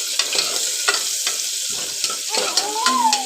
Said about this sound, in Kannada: ಹಾಗೆ ಈರುಳ್ಳಿ ಹಾಕಿ ಚೆನ್ನಾಗಿ ಸ್ವಲ್ಪ ಫ್ರೈ ಮಾಡಿಬಿಟ್ಟು ಜೀರಿಗೆ ಹಾಕಿಬಿಟ್ಟು